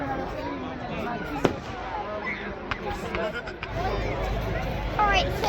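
Bonfire Night fireworks in Corby burst in scattered sharp bangs and crackles, some near and loud, others distant, over a murmuring crowd and people talking.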